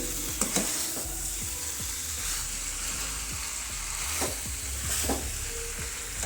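Taro (arbi) sizzles steadily as it fries in a pan, with a constant hiss broken by soft, repeated scrapes and taps of a spoon stirring it, close and even throughout.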